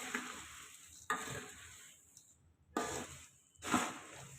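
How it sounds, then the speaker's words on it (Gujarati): Puffed rice is mixed in a pan for a seasoned murmura snack. Three or four dry, rustling stirring swishes come in bursts with quiet gaps between them, and there is no speech. "હવે આપણે મિક્સ કરી દઈએ."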